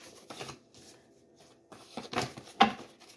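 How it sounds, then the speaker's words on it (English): A deck of cards being shuffled up close, a few short papery riffling bursts separated by pauses, with the last burst the sharpest and loudest, no talking. "Just shuffle one more time and then take them off the top."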